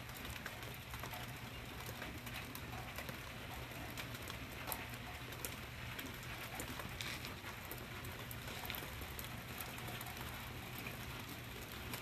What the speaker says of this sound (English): so nice little gentle rain going on